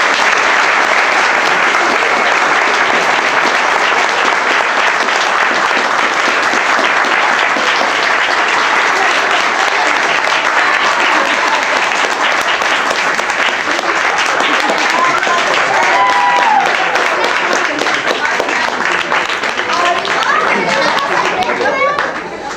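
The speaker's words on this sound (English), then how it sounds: "I want everyone to give them a round of applause." A convention audience applauds at the close of a Scream Queen panel at a horror fan event, long loud sustained clapping from a large crowd with some cheering and chatter mixed in, tapering at the very end.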